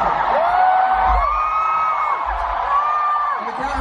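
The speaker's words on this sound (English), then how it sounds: "you guys are going to be a loud crowd." A concert crowd cheers, whoops and screams together at a live show in Korea, several high drawn-out yells rising over a loud, continuous roar.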